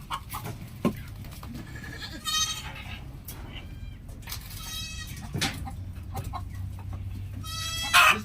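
Goats on a farm in Nigeria bleat several times at close to middle distance, with short wavering cries scattered over steady background noise and a poultry call mixed in; people talk in the background.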